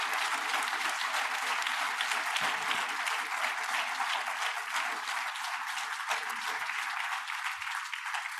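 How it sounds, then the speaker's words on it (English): A symposium audience gives a climate and biodiversity panel a full round of applause: loud, continuous clapping that holds steady throughout, with only faint crowd murmur beneath. "So please, another round of applause."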